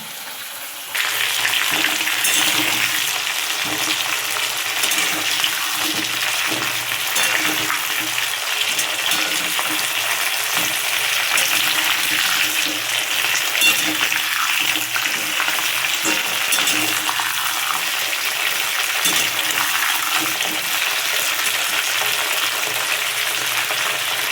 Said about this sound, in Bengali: মাঝে মধ্যে একটু আলু ফুলকপিটা একটু নেড়ে দেবেন